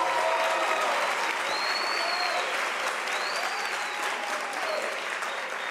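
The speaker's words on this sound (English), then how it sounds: "A warm round of applause." Applause from a large audience at a university spring graduation ceremony, an even, sustained sheet of clapping that carries on steadily, with faint whistle-like tones drifting over it.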